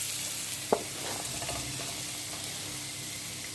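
Vegetables for fried rice stir-frying in a pan with a steady, soft sizzle, one sharp clack of a utensil early on and light stirring scrapes throughout, no voices.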